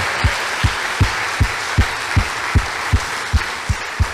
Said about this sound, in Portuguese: Nós estamos aplaudindo Jesus.